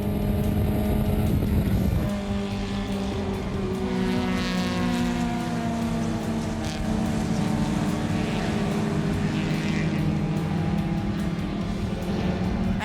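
An onboard racing car engine at Castrol Corner holds a loud, continuous note whose pitch climbs and falls as it shifts through the corner, with no talking.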